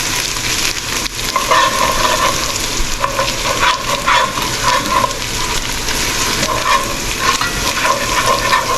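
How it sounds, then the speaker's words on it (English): Ingredients for Bengali muri ghonto frying in a pan, loud close sizzling with frequent scraping stirs and rhythmic utensil clatter, no voices. "We'll fry it off nicely."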